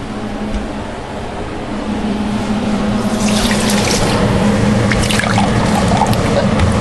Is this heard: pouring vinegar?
yes